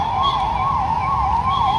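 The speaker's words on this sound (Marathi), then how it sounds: "सो आता इथून चाललेली आहे अग्निशमन दलाची रॅली, तुम्ही बघू शकता" A fire brigade vehicle's siren wails loud and close in a continuous rising-and-falling electronic tone during an Independence Day rally in Nashik, alone with no speech.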